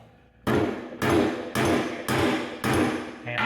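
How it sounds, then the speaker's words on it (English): A hammer strikes a metal ferrule onto a wire snare cable five times at an even pace, each blow loud, close and sharp with a short ringing decay. "and then go ahead and hammer"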